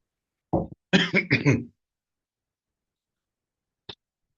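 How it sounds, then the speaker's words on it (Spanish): A short burst of close, dry coughs, three or four in quick succession, then quiet with one small click near the end. "Ahí me perdonan que tenía una tosecita"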